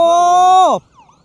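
Rescue vehicle siren on a road in Thailand, a loud, close electronic wail holding steady before sweeping downward and cutting off abruptly, followed by faint background noise.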